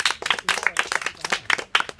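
Children in a village outreach session clap their hands together, a lively burst of irregular, overlapping claps close by and fairly loud, without talking over it.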